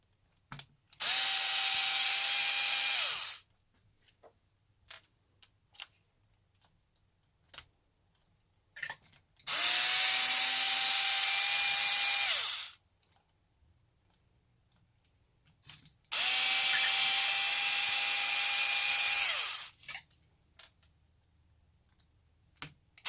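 A power screwdriver backs screws out of the sway bar end links on an Arrma Kraton EXB RC car, whirring in three bursts of about two to three seconds each, with quiet clicks of handling between them.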